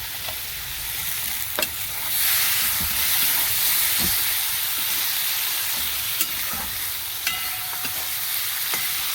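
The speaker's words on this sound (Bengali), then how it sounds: "বেগুনটা ভেজে রেখেছি, দিয়ে দিচ্ছি" Fried brinjal pieces stirred into a hot frying pan, giving a steady close sizzle with scattered sharp scrapes and clicks of a spatula against the pan, no voices.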